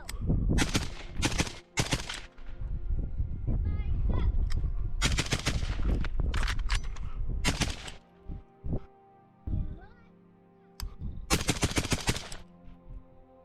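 Rifle shots crack at an outdoor shooting range in loud, close bursts and spaced single reports, with brief pauses between strings of fire.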